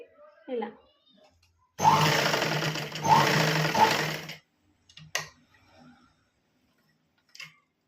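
A sewing machine stitches a blouse back dori in one loud, close run of about two and a half seconds. Someone talks briefly before and after.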